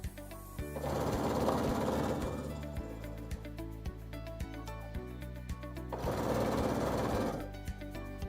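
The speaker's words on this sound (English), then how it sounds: "And now I just continue top stitching all the way around." A sewing machine top stitching around an edge runs in two sustained bursts of rapid, steady mechanical stitching, with quieter handling clicks and knocks in between, close and alone with no talk.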